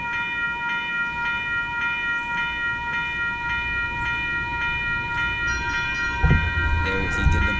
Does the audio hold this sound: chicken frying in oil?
no